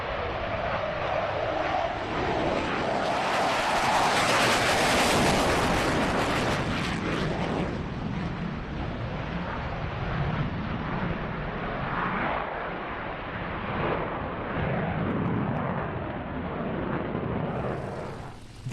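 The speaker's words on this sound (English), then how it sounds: "the departure of one of the Louisiana National Guard F-15Cs we saw earlier, leaving the show with an impressive unrestricted climb" A Louisiana National Guard F-15C fighter jet departing an air show in an unrestricted climb, a loud, sustained roaring jet engine that swells and then slowly fades into the distance.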